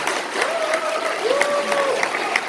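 Audience applause at a political debate forum, a steady mid-level patter of clapping across the room, with a voice speaking over it in the middle.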